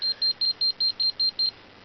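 The alarm of a GM3120 electromagnetic field tester sounds as eight short, evenly spaced high-pitched beeps in quick succession, clear and close, then stops.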